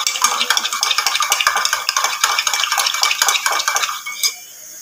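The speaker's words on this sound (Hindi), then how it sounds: "चम्मच में दो डाल दी, मैं अच्छी तरह मिक्स कर रही हूँ" A spoon clinks rapidly and loudly against a vessel while a drink is mixed, a dense run of metallic taps that slows and stops near the end, with no speech.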